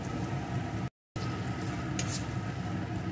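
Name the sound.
chopped tomato sautéing with spices in a pan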